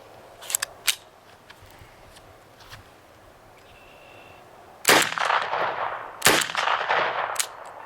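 A Zip22 pistol fires Federal hyper velocity .22 rounds, sharp cracks, two quick ones at first, then louder shots later, with fainter clicks and handling noises between.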